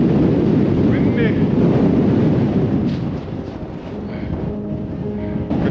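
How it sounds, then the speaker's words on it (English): Strong wind at the rim of Hverfjall crater in Iceland buffets the microphone in a loud, steady roar that eases slightly midway, with faint voices in the background. "Windy."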